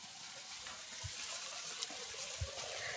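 Faint water running and splashing continuously, with a couple of soft low thumps, as something is rinsed in a garden.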